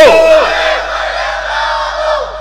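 A large gathering at a religious sermon shouts the takbir chant back in unison. It is a loud, roaring group call that swells at once and then slowly fades.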